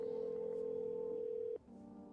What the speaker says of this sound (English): Can I use the phone? Let's call the neighbor.